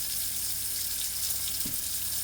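A kitchen faucet running steadily into a sink being filled for dishwashing, a loud continuous hiss and splash, close and unbroken, with no talking.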